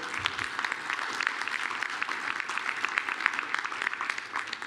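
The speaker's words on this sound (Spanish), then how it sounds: "espero que lo reciban con un fuerte aplauso" Steady applause from an audience fills the whole stretch, a dense crackle of many hands clapping at moderate distance.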